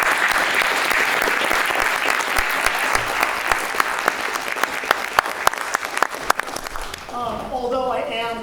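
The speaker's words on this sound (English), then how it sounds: "So just a little round of applause," Enthusiastic audience applause fills a concert hall after a University of Florida clarinet choir performance, a dense sustained roar of many hands with sharp individual claps, fading near the end as a voice begins speaking.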